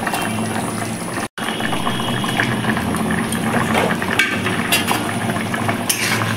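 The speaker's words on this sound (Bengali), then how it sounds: "ঝোলটা আমার ফুটে গেছে" Fish curry broth made with katla fish and potatoes bubbles at a steady rolling boil in a pot, close and fairly loud, with a brief dropout early and a few clinks near the end, no voices.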